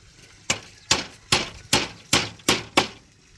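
Seven sharp, evenly spaced hammer strikes ring out in a steady rhythm while building a small hut by a pond, each a crisp impact with a short decay, close and fairly loud.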